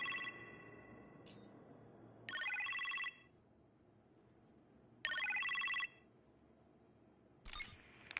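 Kitchen telephone ringing in the Iron Man VR video game, three separate electronic rings spaced a few seconds apart, bright and fairly loud over a quiet background hum.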